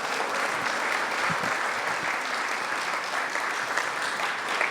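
Audience applause for a singer at a homecoming ceremony, a steady dense wash of clapping lasting the whole stretch with no talk over it.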